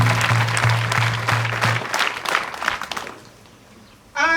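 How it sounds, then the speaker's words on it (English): A school celebration crowd welcoming a minister as guest of honor breaks into a dense burst of clapping, loud and close, tapering off after about three seconds. "why not an applause?"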